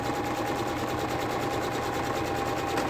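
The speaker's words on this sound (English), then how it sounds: "I'm going to sew forward, back stitch, all the way across" A sewing machine stitching a seam runs continuously at a steady, rapid rhythm, close and fairly loud, with an even whirring hum and no pauses.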